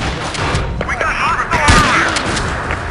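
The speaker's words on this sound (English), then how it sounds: "Who's shooting at me?" Battlefield 3 gunfire: a dense barrage of shots and thuds from several weapons, loud and continuous, with some muffled booms and crackle throughout.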